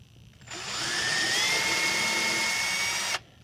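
An electric drill spins up and runs steadily for about two and a half seconds, boring a pilot hole partway into a wooden board, its motor whine rising slightly as it bites, then stops abruptly.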